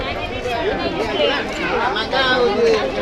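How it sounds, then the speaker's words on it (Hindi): A busy crowd chatters at the ticket counter of the Konark Sun Temple on a Sunday, a dense, continuous babble of many overlapping voices at mid distance. "आज संडे है इसलिए थोड़ा भीड़ भी है।"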